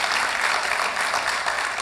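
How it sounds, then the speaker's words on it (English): A church congregation at a fall revival service applauds with steady, loud, close clapping from many hands that fills the whole short stretch, with no voices over it. "I think that deserves some applause."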